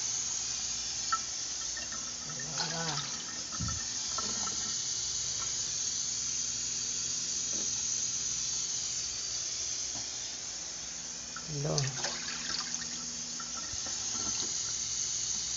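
Water pours steadily into a container for making gulaman jelly from two sachets, a continuous hissing, trickling flow with a few brief clunks and louder splashes along the way.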